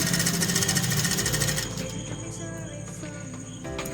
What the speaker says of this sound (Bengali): এইভাবে পুরো চারিদিকটা সেলাই করে নেব।